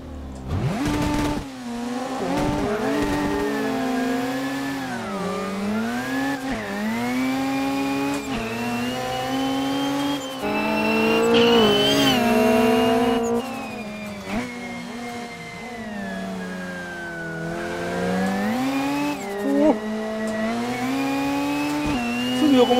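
Racing engines of a Mazda RX-7 and a Honda S2000 in an Initial D arcade game on the Akina pass, sustained loud revving that rises and falls with gear shifts, with tire squeal throughout.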